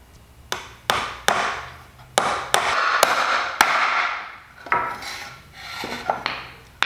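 Sharp, ringing hammer strikes joining wooden pallet boards by hand, spaced irregularly with short pauses, close and loud, with scraping and rattling between blows.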